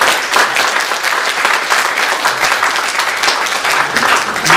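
A church congregation at a Sunday worship service applauds to welcome visitors, giving dense, steady clapping from many hands that fills the whole stretch with no break.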